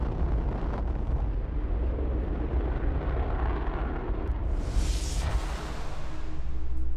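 Engine test firing explosion in Fallout 4, a heavy rumbling roar that builds steadily, with a sharp hissing burst near the end over the continuing low blast.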